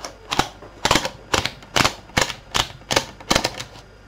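A card punch perforates a music card, producing about eight loud, sharp clacks at a fairly even, steady rhythm, each one close and distinct.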